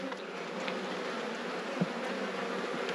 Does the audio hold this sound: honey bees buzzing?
yes